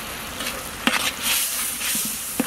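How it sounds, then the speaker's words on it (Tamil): Onion, tomato and spice masala sautéed in oil for eggplant curry, with a steady close sizzle broken by a few soft spoon scrapes and stirring knocks. "இப்போ நம்ம வெங்காயம் தக்காளியோட மசாலாவையும் சேர்த்து நல்லா எண்ணெயில் வதக்கிக்கலாம்"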